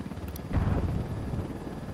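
Helicopter in the video game Ghost Recon Wildlands: a dense, low rotor rumble that swells after a brief click, steady and loud throughout with no talk.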